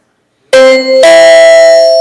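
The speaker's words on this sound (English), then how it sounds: "we are instituting some new policies and a really loud new bell, apparently" At a city council meeting, a loud new bell rings twice close up, ding-dong style, with a bright tone that lingers and rings on strongly to the end after silence.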